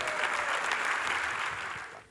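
Audience applause at the opening ceremony of the 41st Istanbul Film Festival as an award presenter comes on stage, a dense continuous burst of clapping from a crowd that tapers off at the end.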